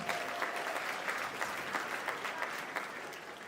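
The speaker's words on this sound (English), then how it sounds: "Let's give another round of applause to Izzy." An audience claps at a Champions of Change event, a dense continuous patter of many hands at moderate level with a few louder claps standing out, no voices over it.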